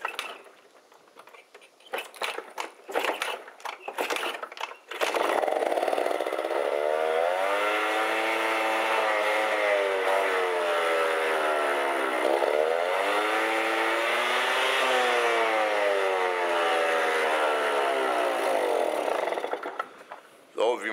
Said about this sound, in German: Wie man hören konnte, dreht der Motor extrem hoch.